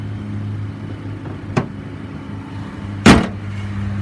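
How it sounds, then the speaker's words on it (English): A 2014 Nissan Versa Note with a bad transmission runs with a steady low idle hum close by, broken by two sharp clunks, the second louder. No one speaks. "The little motor sounds good."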